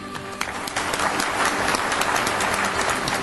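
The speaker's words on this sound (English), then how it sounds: "Ladies and gentlemen, a round of applause for a great company," Audience applause for the Boeing 777 team at a 1997 world-record event, steady dense clapping from a large crowd, loud and continuous throughout with no talk.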